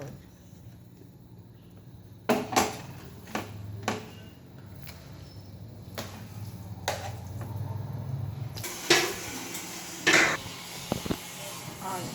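Rice and vegetables for bisi bele bath are stirred in a cooking pot, a series of sharp metallic spoon clanks and scrapes against the pot over a low simmering rumble.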